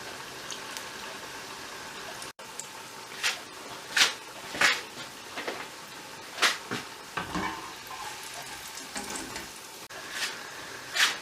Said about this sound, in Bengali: এখন আরো 4টা ভাজতে দিয়েছি, এটা প্রায় হয়ে যাওয়ার পথে।